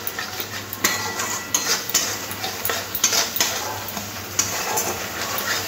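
Spices and turmeric stirred into a curry of taro stolons with prawns in a pan: repeated scraping strokes of a metal spatula with clinks against the pan, over a soft background sizzle, close and rhythmic, no speech.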